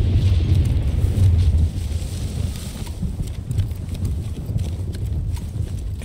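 Horse hooves clip-clopping over muddy ground in the video game Battlefield 1, a steady rhythmic trot under heavy wind and engine rumble.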